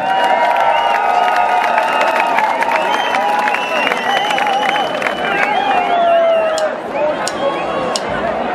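Audience at an Achterhoek street brass band championship in Groenlo applauds and cheers for a dweilorkest from Winterswijk, a loud sustained wash of clapping and crowd noise with whistles and voices over it.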